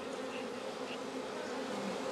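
Honeybees humming inside a hive in Corsica, a dense, steady, close buzz with no talk.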